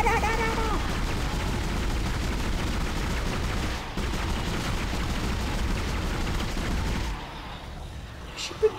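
Rapid, sustained gunfire from a weapon in the Dead Space video game, dense bursts of shots continuing for several seconds before cutting off into quieter game sound, with a voice talking over it.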